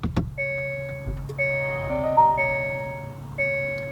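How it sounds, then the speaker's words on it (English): Electronic startup chime of a 2020 Hyundai Ioniq Blue hybrid: a click, then a sequence of clean sustained tones stepping through a short melody, clear and close inside the cabin. "I just want you guys to hear the startup sound."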